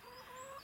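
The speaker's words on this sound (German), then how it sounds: "Darf ich vorstellen, das ist mein Huhn." A hen kept among a flock of about sixty, with paralysed legs, gives a brief, faint, soft cluck, close by with no talking.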